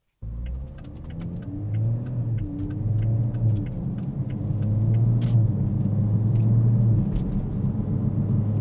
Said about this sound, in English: driving the 2020 Toyota Supra, and I don't know if you can hear it, but it is a little loud